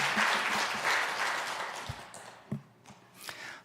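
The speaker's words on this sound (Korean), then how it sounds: "박수로 환영하겠습니다." An audience at a Sunday afternoon church service in Seoul claps in welcome, a dense, moderately near burst of applause that thins out into scattered claps and fades within a few seconds.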